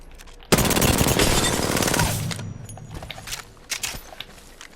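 Rapid SMG fire in the Apex Legends firing range, a loud dense burst of shots for about two seconds, then scattered single reports and clicks tapering off.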